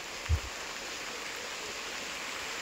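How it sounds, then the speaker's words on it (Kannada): Steady rain pours down in a village in the rainy season, a constant even hiss of falling water with one dull thump near the start and no voices. "ಮಳೆ ಬಂತು ನೋಡಿ, ನಾನು ಬೇಗ ಬಂದದ್ರಿಂದ ಆಯಿತು. ಮಳೆ ಬಂತು"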